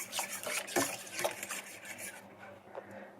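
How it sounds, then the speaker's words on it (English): A spoon scrapes and stirs a flour-and-cold-milk mixture into gravy in a pan for bear meat stroganoff, making steady close rubbing and scraping strokes with a few light clinks, then a quieter stretch near the end. "we add our flour and milk mixture. The secret to making a good gravy is using cold milk. And we just keep stirring."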